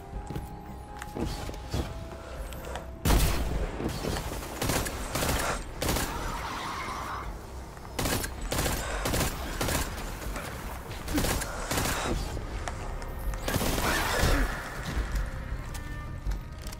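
A pulse rifle fires in Destiny 2, bursts of sharp gunshots coming in clusters amid other game clatter, loud and close with quieter gaps between volleys.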